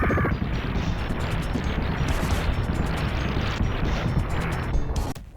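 Dense, continuous bursts of rapid gunfire and crashing explosions from the run-and-gun game Terminator 2D: No Fate, loud and chaotic, with sharp rhythmic clicks near the end.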